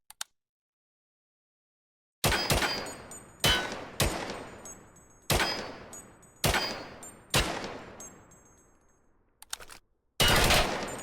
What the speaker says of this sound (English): This thing, it's a battle rifle.